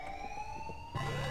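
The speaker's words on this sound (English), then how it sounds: "Trigger the alarms." A steady electronic alarm siren from the Doctor Who: The Eternity Clock video game, a sustained wailing tone that holds throughout and is joined near the end by a low rumbling game sound.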